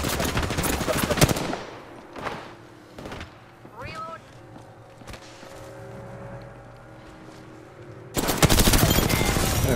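Gunfire in Apex Legends, with loud rapid automatic bursts at the start and end and scattered single shots between, and game voices and effects in the quieter middle stretch.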